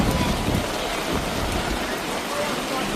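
Heavy rain pours down steadily during an outdoor massage at a free hot spring in Ranong, a dense continuous wash of drops with no gaps.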